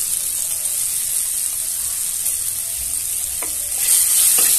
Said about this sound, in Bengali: টমেটো আমি একটু ভালো করে ভেজে নেব।